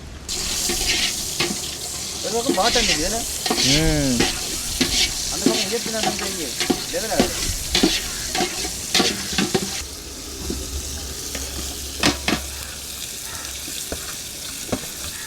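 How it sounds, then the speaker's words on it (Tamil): Onions sauté in ghee and butter for Jaffna-style biryani, giving a continuous close sizzle with scraping stirs through it, while a voice speaks intermittently. "வெங்காயம் வந்து ஒரு கோல்டு கலரில் விடுற மாதிரி வதக்கணும்"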